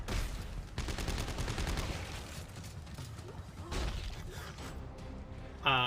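Rapid bursts of gunfire in the sci-fi horror game Dead Space 3, dense repeated shots clustered in the first half, layered over a steady rumble of game ambience.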